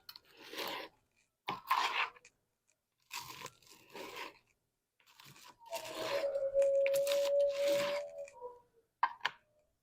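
Crisp crunches from biting and chewing a waffle cooked with ghee come in short, close bursts separated by silence, followed by a longer chewing stretch with a brief tonal hum.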